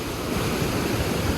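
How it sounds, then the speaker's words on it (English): Devil's Punch Bowl waterfall roars in a dense, continuous wash of falling water on a wet, snowy day, loud and unbroken, with some wind buffeting the microphone. "this is for the Devil's Punch Bowl waterfall"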